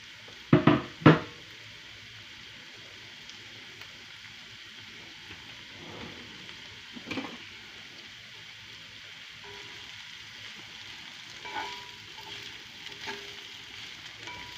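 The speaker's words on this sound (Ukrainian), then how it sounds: "Висипаю цибульку. І нехай вона готовиться до готовності." Chopped onion frying in a pan for mushroom-and-cheese lavash rolls, a steady soft sizzle running throughout, with a few clanks of utensils at the start and occasional light stirring noises.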